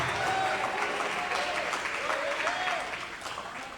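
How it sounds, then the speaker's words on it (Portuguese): Church congregation applauding during a Portuguese-language worship sermon, a steady dense wash of clapping with a voice singing or calling over it throughout, fading slightly toward the end. "Se é para Ele, aplauda melhor,"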